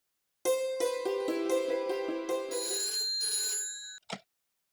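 A telephone rings on an outgoing call in a home, a loud repeated electronic bell-like ringtone with rapid pulsing notes lasting several seconds, then a brief click as the call connects.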